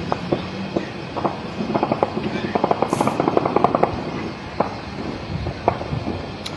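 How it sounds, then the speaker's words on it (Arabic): Heavy gunfire from many weapons during a tribal armed clash in the Al-Fadhiliya district of Baghdad, heard as irregular bursts of sharp cracks and pops, some near and some distant, scattered and dense over a noisy outdoor background. "طلقات رمي قوي."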